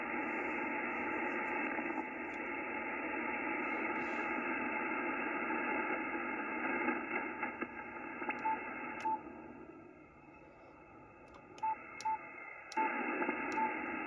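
Amateur radio reception on a Yaesu HF receiver with no DSP noise reduction, chasing the DX station SO5TC: steady hiss and static fill the band, with short faint keyed tones and brief dips in the noise.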